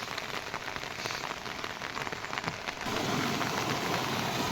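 Steady rain pours outdoors over farm fields, a dense continuous hiss of drops on surfaces that grows slightly heavier partway through, with no voices.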